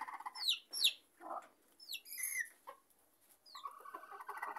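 A rooster clucks and squawks in a series of short, agitated calls with brief pauses between them, close by and clear over a quiet background.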